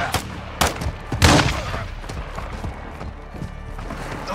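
Gunfire in Call of Duty: Modern Warfare 2 on Realism difficulty, with sharp loud shots around one second in and scattered cracks afterward over a busy battle backdrop, alongside faint voices.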